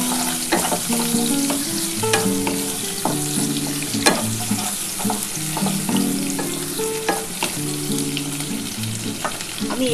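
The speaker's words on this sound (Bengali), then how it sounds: "আর কিছুটা পেঁয়াজ আমি ভেজে নিচ্ছি" Onions fry in oil in a pan with a steady close sizzle, and a spatula scrapes and stirs through the pieces in repeated strokes over the whole stretch. There are no voices.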